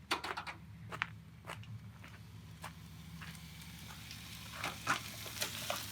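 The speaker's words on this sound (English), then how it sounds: "I'm sauteing some vegetables for my pizza" Vegetables for a pizza sauté in a pan at a camp stove with a faint, steady sizzle, broken by a few scattered utensil clicks and scrapes.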